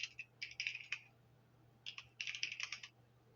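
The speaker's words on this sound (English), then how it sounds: "Look, I got you typing crazy now." Rapid typing on a computer keyboard in two flurries of crisp key clicks separated by a short pause, close and fairly quiet over a low steady hum, with no voices.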